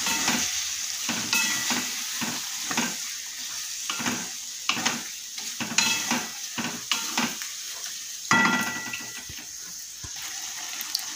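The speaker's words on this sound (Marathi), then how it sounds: "आपले वाफवलेले चणे आहेत ते घालूया। ते घालून आपल्याला परतवून घ्यायचं आहे," Steamed chickpeas being stir-fried in a pan for dhaba-style chana masala, with steady sizzling and repeated scraping strokes of a spoon against the pan, close and continuous, no voices.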